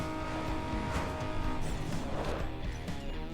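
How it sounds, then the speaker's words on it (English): Race car engine from the video game Need for Speed Underground 2 during a drag race: a loud, continuous, straining roar of revving, with hints of tire squeal over the dense engine drone. "My engine's gonna overheat."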